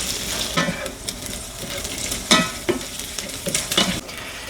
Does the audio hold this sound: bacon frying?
yes